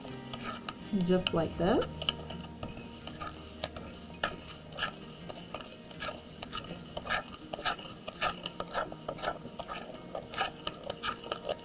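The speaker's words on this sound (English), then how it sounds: "now we're going to mix all of this together" Lemony hand scrub ingredients being stirred together in a bowl, with soft scraping and clicking strokes repeating steadily throughout and a brief louder rattle near the start, under a few quiet spoken words.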